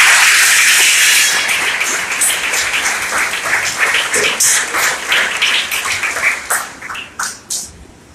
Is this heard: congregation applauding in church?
yes